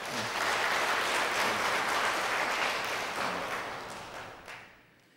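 A church congregation at a Sunday service claps to welcome a visiting Lutheran pastor, loud, even applause that holds steady, then tapers off and fades to quiet.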